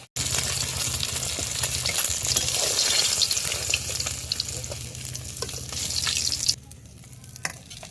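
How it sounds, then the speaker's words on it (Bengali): Fish and vegetables fry in oil in a wok, a loud, dense sizzle with stirring scrapes that holds steady, then drops abruptly to a quieter crackle near the end. "ওই তেলেই আমি সবজিগুলো ভেজে নেব"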